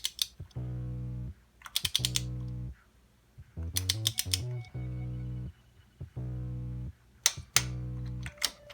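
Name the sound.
ratchet tightening a spark plug on a Honda Accord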